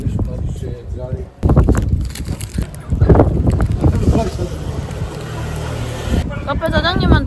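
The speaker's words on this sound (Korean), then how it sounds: "바람이 너무 불어." Strong wind blows across a countryside road on Santorini, Greece, as a rough, broadband rumble that buffets the microphone and surges and eases, with people talking over it.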